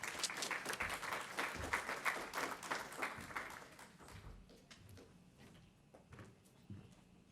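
A workshop audience applauds to welcome a speaker to the podium, a dense burst of clapping that gradually thins and fades over several seconds.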